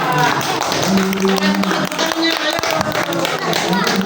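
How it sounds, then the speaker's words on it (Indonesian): Classroom applause after a student group presentation of a biology discussion, with a cluster of hand claps and taps over murmuring voices and background chatter, fairly close and moderately loud throughout. "tepuk tangan untuk mereka"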